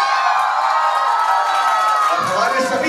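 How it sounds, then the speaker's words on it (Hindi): A crowd of children at a talent hunt event shouting and cheering loudly together, a dense sustained roar of voices that swells further near the end. "किनको शोर मचाना आता है एक बार जोरदार हल्ला मचाओ और अपने जोश के साथ सर के लिए।"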